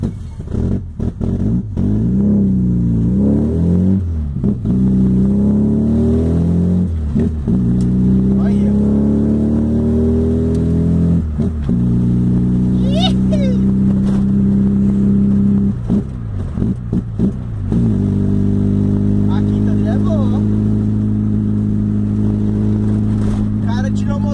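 A Volkswagen Gol swapped from a 1.6 CHT to an AP 2.0 gasoline engine with carburetor and sport exhaust revs repeatedly, pitch climbing and falling in loud bursts, with people talking over it.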